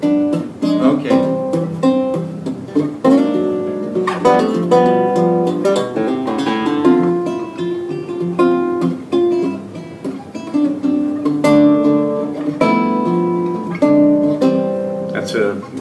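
Acoustic guitar playing a fingerstyle arrangement, a steady stream of plucked bass notes and melody chords, close and loud, with no talk during the passage.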